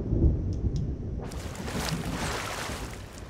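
A thunderstorm at sea in a pirate video game rumbles with low, rolling thunder, then a broad rush of wind and rain swells in and holds steady.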